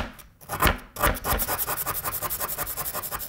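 A metal tool scrapes and digs into the hard plaster block of a treasure excavation kit, a few heavy gouges followed by a quick, steady run of rhythmic rasping strokes, close and loud.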